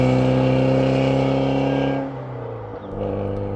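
Porsche 924S fitted with a Vibrant ultra quiet resonator, engine held at high RPM above 4,000 with a steady droning exhaust tone that eases off near the end, close and loud with no talking.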